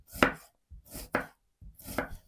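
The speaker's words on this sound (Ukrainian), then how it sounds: "нарізаю цибулю півкільцями" A knife slices an onion into half-rings on a board in three distinct crisp strokes, close by, with short pauses between them.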